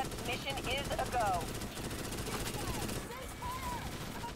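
Sustained rapid gunfire in the video game Starship Troopers: Extermination, a dense rattling barrage filling the whole stretch, with voices and radio chatter mixed over it.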